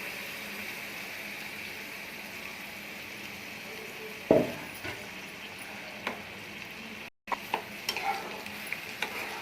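Onion-tomato gravy added to hot oil in a home kitchen, a low continuous sizzle with one loud clatter of stirring midway and a few lighter utensil taps afterward.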